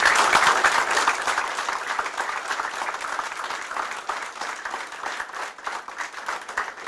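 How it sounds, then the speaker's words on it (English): A crowd at a baseball coach's introductory event gives a sustained round of applause, loudest at the start and gradually thinning and softening over several seconds. "Can we please give Coach Mays a round of applause?"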